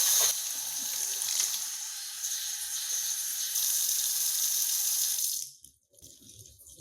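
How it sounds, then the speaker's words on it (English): Water running steadily from a tap or shower sprayer as shampoo is rinsed out of 4C natural hair, a loud continuous hiss that cuts off abruptly near the end, leaving quiet room tone. "time to rinse the first shampoo out"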